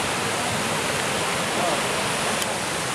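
River rapids rush in Little Lakes Valley in the John Muir Wilderness high country, a steady, loud wash of white water that fills the whole stretch without letup.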